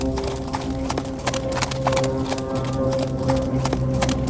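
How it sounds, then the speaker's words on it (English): Horses gallop vigorously in a steady, continuous clatter of hoofbeats, close and loud, forming a driving rhythm throughout with no voices. "Then came the sound of vigorous galloping horses, and poor Persephone was frozen with fear."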